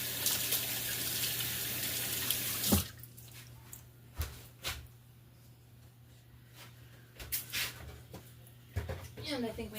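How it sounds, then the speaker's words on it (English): Hands are rinsed under a running kitchen tap after handling sticky garlic. Water gushes steadily for about three seconds and then shuts off, followed by a person talking and a few small clicks and clatters. "Let me give my hands a rinse."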